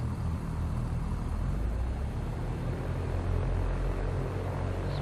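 A single-engine aircraft in X-Plane 11 with a low, steady engine rumble at moderate level, the power building only subtly across the span.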